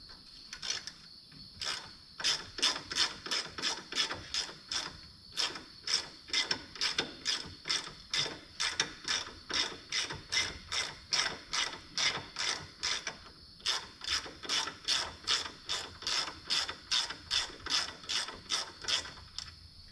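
Rapid ratchet wrench clicks tighten a pair of 10 mm bolts holding a brake line on a Segway UT10 utility vehicle, steady bursts of close, sharp clicking in repeated strokes with brief pauses between, no talking.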